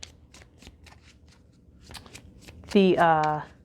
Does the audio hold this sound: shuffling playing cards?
yes